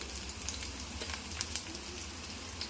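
Cumin and mustard seeds crackle in hot oil, a faint, steady sizzle with small scattered pops, heard alone.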